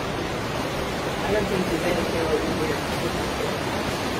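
A small creek flows near a walking path by a bridge, a steady broadband rush of water that holds constant throughout, with a person talking briefly over it.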